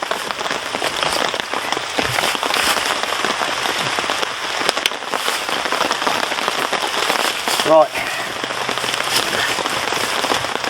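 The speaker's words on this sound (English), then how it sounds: "the rain is coming in" Steady rain patters across a wild campsite in wet, windy UK weather, a dense continuous hiss with scattered drops, while someone says a brief word near the end.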